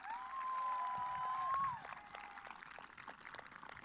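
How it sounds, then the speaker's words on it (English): An audience at a Class of 2020 middle school graduation applauds the valedictorian with light, scattered clapping, fairly faint and distant, thinning out toward the end while a tone sounds briefly. "Please give one more round of applause for our class of 2020 valedictorian, Nick Bogus."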